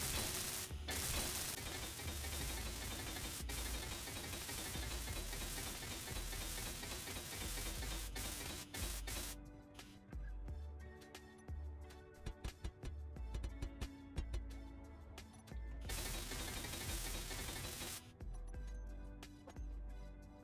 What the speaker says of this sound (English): So we're just gonna put these things here first for now, weld it up